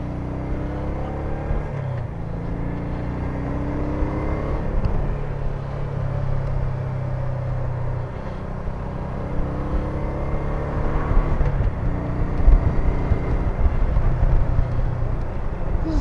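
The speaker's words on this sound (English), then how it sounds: "This is actually a pretty good sounding bike in its own right." A vintage Honda PC800 commuter motorcycle with a small V-twin engine runs nearby with a steady, throbbing low hum that shifts in pitch a couple of times as it idles and revs lightly.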